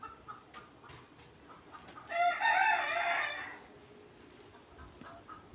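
A single rooster crows once on a farm, clear but somewhat distant, over faint background noise.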